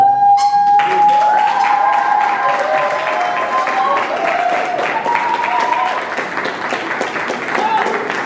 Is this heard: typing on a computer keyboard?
no